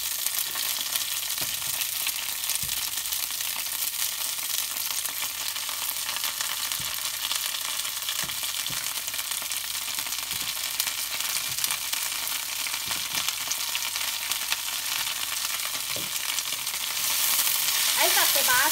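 Loud, continuous sizzle of garlic, chili and vegetables stir-frying in hot oil in a wok, a dense crackling hiss with occasional stirring scrapes that swells near the end.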